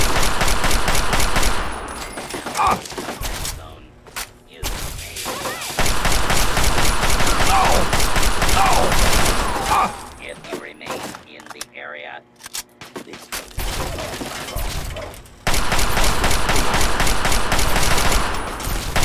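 Bursts of automatic gunfire in Fallout 3, rapid dense volleys with pauses between them, loud and close, mixed with game sounds and voices talking over the shooting.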